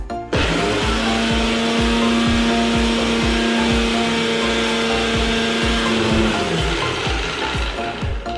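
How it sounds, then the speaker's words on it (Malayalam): A kitchen mixer grinder whirs loudly and steadily while blending homemade mayonnaise as oil is added, a sustained motor drone with rattling, clicking texture that runs for several seconds before winding down near the end. "എണ്ണ ഒഴിച്ചിട്ട് മിക്സിയിൽ അടിക്കാവുന്നതാണ്"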